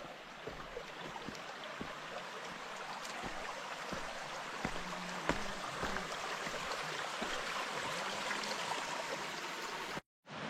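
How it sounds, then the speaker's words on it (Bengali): A small waterfall-like stream runs over a waterlogged forest path near Ghatshila, its steady broadband rush of flowing water continuous and fairly close, with no talk, before cutting off briefly near the end. "এখান থেকে কিছু একটা ঝর্ণা টাইপের গেছে।"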